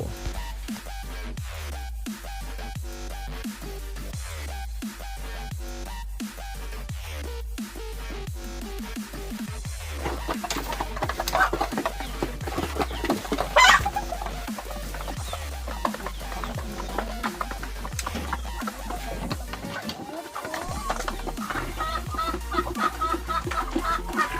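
Young laying hens clucking in a Thai layer hen coop, a continuous chorus of clucks from many birds nearby over a constant low hum, with a few louder calls standing out.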